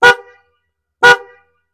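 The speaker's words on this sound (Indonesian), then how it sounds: "nah menggelegar ya untuk klaksonnya ya" Two loud, separate blasts from the horn of a Honda CB125 motorcycle, each a short bright honk about a second apart, heard up close with no talking.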